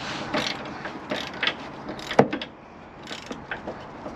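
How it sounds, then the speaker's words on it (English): A bolt being unscrewed by hand on a Sprinter van's suspension makes close metallic ticking and ratcheting clicks in an uneven rhythm, with one sharper knock midway. "Hold with one hand, unscrew with the other."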